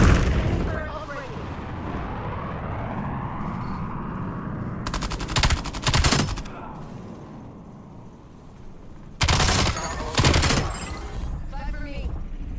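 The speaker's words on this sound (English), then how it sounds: "Turret operating." Automated turret in a video game firing two long, loud bursts of rapid machine-gun fire, with a steady rumble of game noise between the bursts.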